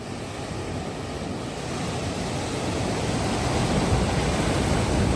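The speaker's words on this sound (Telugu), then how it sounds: "గాలి సౌండ్లు, అలల సౌండ్ వినండి." Wind and sea waves wash over a beach at night, a steady broadband roar of surf that swells slightly louder over several seconds, with no voices present.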